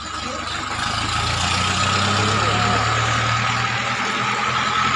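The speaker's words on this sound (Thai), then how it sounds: "มีรถไถมาครับ" A farm tractor engine rumbles in a steady, heavy low drone that grows slightly louder as it approaches, with constant outdoor noise and no talking.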